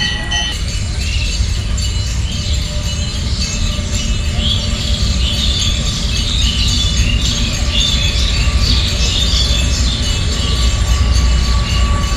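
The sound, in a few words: train passing on railway line beside temple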